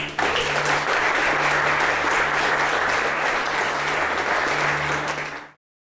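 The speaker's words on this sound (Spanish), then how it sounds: "le damos un aplauso al Señor" A church congregation breaks into loud sustained applause, a thick uninterrupted wash of clapping that cuts off abruptly to silence just before the end.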